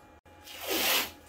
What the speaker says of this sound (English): So let me go ahead and grab some tape.